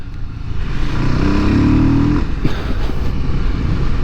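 A 2025 Voge 300 Rally adventure motorcycle engine heard from the rider's position, a loud continuous rumble whose pitch rises and then drops as it shifts down, with wind noise throughout.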